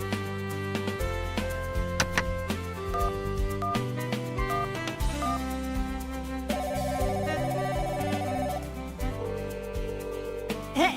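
A telephone plays a melodic ringtone, a repeating electronic tune of stepped notes that sounds continuously, moderately loud, with no voices over it.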